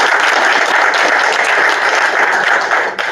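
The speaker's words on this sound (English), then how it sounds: "Give him a round of applause." Sustained audience applause fills a school board of education meeting room, a dense, steady wash of many hands clapping at close range for about three seconds, with no speech over it.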